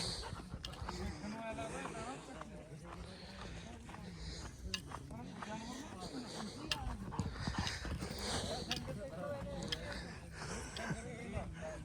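Dogs bark and yelp amid a busy outdoor commotion, with many people shouting and talking over them throughout.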